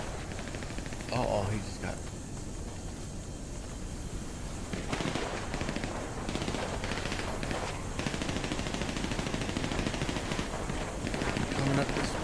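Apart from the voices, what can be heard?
gunfire in video game GTA V Online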